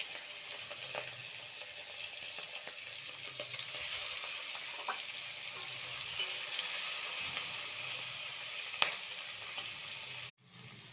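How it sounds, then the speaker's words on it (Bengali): Prawns frying in hot oil in a pan, a steady soft sizzle with scattered crackles and pops throughout, fairly quiet and close, ending in a brief scrape, with no voices. "মাছগুলো তেলেতে দিয়ে দিলাম"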